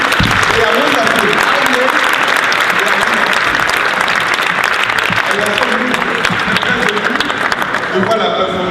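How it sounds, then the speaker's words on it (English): An audience at an Africa Day celebration in Denmark gives a performing group a sustained, loud round of clapping, dense and continuous with scattered voices underneath. "Please, may you give a round of applause to the group again."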